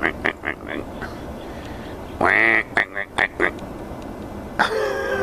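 Tame ducks quack in short nasal bursts, several quick calls in a loose rhythm plus a longer drawn-out quack, close by over a low outdoor background.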